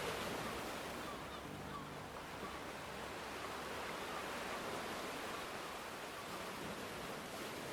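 Ocean waves on a volcanic sand shore in Kamchatka, a steady broadband wash of surf with no distinct breaks, heard alone at moderate distance.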